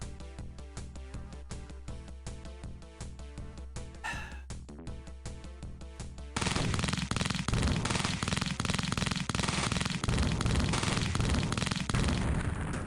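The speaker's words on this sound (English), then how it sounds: "We go to you now with live coverage of the event of these guys exploding." Enemies blow up in the tactical game X-Com Files, starting with rapid rhythmic gunfire pops and then turning into a loud, dense roar of continuous explosions that carries on to the end.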